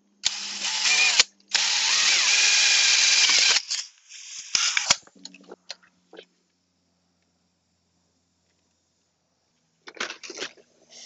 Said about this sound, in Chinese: 咁我用电钻咧就方便啲。